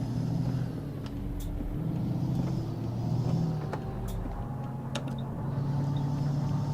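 A Peterbilt 357 heavy hauler in American Truck Simulator pulls a heavy load, its diesel engine rumbling low and steady while it accelerates through the gears, close and continuous with faint clicks and no voices.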